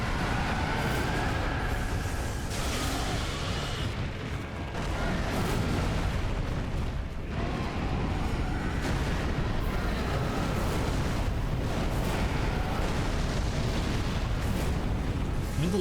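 Dense, continuous roaring blasts and booming fire from a Dark Souls 3 boss attack with a big laser and floating fireballs, loud and sustained throughout, with no speech.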